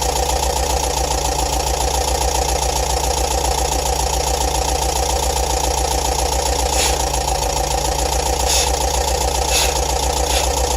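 A bus engine idling steadily at slightly high revs during repair work, a continuous low rumble with a few faint clicks, no talking.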